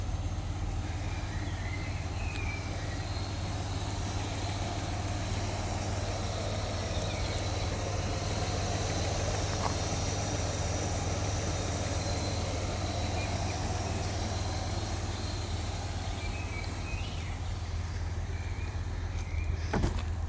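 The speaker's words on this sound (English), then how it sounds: "Really quiet engine, really quiet." A Hyundai Coupe GK 2.7 V6 engine idles with a steady low hum, quiet and continuous, with faint background noise and no speech.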